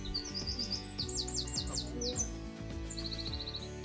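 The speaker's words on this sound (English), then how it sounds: "That was a wren," A wren, one of Britain's smallest birds, sings close by at a London wetland centre, pouring out loud, explosive bursts of rapid high trills and chirping notes in quick succession.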